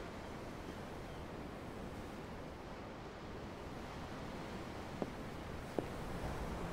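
Ocean waves wash in a steady, broad roar heard from on board a ship at the railing, unbroken and fairly soft, with two faint clicks near the end.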